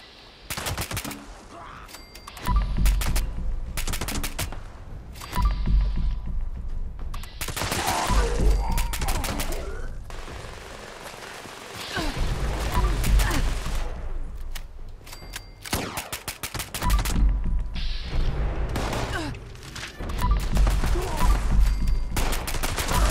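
Fallout 76 gunfire comes in repeated rapid bursts, loud and close, separated by short pauses.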